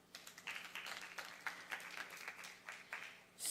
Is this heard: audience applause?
yes